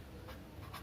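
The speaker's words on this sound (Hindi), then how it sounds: "यहाँ मैं लिख रहा हूँ" Marker or chalk strokes on a classroom board during a chemistry lesson, two brief scratchy bursts over a steady low room hum, quiet and close.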